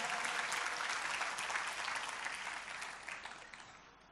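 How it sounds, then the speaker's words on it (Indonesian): A church congregation claps enthusiastically during a worship service, a dense, lively burst of applause that slowly fades toward the end. "berikan tepuk tangan yang paling meriah"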